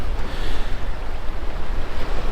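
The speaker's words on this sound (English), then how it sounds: "we've got the waves coming in towards us" Sea waves roll in toward a reef at a coastal fishing mark, a steady close wash of surf with a rushing, hissing texture and some wind buffeting, no voices.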